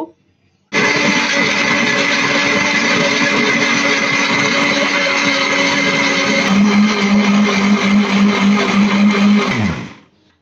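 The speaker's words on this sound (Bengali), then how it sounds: "সব উপকরণ ব্লেন্ডারে দিয়ে দিলাম। এবার ব্লেন্ড করে নেব।" A blender blending beetroot juice roars to life after a short silence, running at a steady high-pitched whir, its tone dropping slightly near the end before cutting off abruptly.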